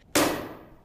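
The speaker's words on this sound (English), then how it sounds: "the ancient city of Nablus echoing with gunfire" A single sharp gunshot cracks out in the city of Nablus in the occupied West Bank, loud and sudden, then trails off in a ringing echo.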